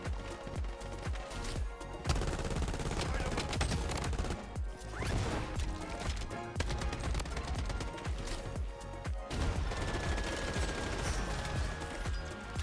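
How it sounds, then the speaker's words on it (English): Dense, continuous gunfire from a Bloodstrike battle royale match, including sniper fire from a distant rooftop, with rapid overlapping shots and crashes at steady loudness throughout and no speech. "Getting sniped from the other rooftop."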